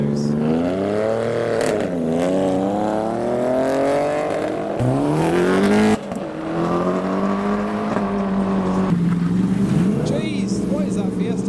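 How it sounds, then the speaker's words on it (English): A modified Volkswagen Golf launching hard with launch control at a busy city car meet, its engine revving loudly and climbing in pitch through repeated pulls, close by and dominating the scene. "This Golf's been trying launch control for the past minutes."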